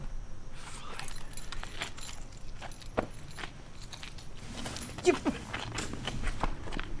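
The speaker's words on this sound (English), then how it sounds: "Let me see your keys." A ring of keys jangling and clinking as it is handed over, with soft shuffling, footsteps and faint background noise.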